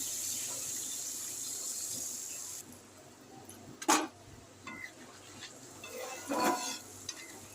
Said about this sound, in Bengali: আলুটাও আমি একটু সামান্য একটু ভাজা ভাজা করে নেব